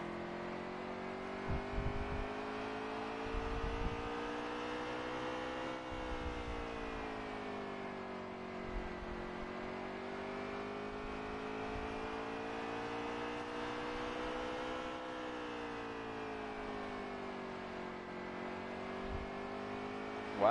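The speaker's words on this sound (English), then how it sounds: "You can hear that throttle still in a bit." Race car engine throttle in the NASCAR Heat 3 video game, a steady droning engine tone that rises and falls gently as the throttle is held through corners, fairly quiet and continuous.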